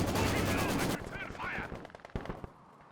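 Artillery barrage in Company of Heroes 2, a 3v3 match on La Gleize: a dense burst of rapid explosive bangs up front, then scattered quieter blasts and cracks trailing off, all fairly faint in the game mix.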